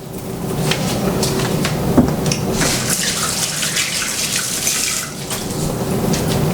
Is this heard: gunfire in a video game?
no